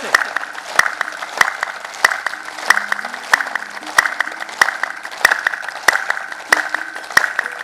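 An audience claps in unison during a clapping therapy session, loud sharp claps landing in a steady beat of roughly one and a half per second, with faint voices underneath.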